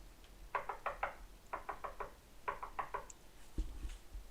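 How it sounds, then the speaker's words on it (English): Knocking on a door comes in several quick clustered groups of raps, crisp and fairly close, followed by a duller thump, with no one talking. "She knocked 4 times."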